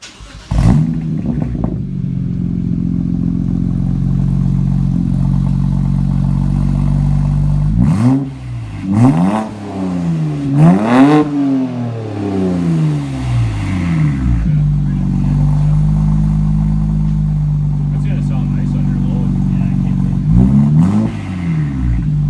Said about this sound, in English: Turbo sounds nice.